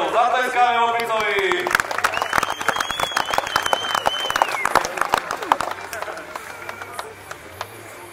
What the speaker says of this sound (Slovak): A práve to položil, zatleskáme Opicovi.